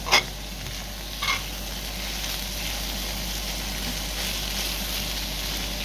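Dried cabbage stews with tomato in a pan, giving a soft, steady sizzle and simmer. A couple of brief utensil clinks come near the start, and no one speaks.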